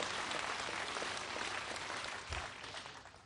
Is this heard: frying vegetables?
no